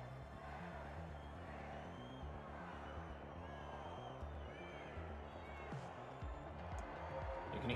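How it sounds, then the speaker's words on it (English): A steady roar of a crowd cheering in the video game The Finals fills the scene, dense and continuous, with faint rhythmic thumps and occasional whistles beneath it. "You can hear the crowd."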